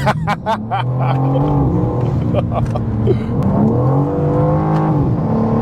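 A G82 BMW M4 Competition revs and accelerates with a throaty induction and Remus exhaust roar, pitch climbing and dropping through gear changes, with a voice talking over it.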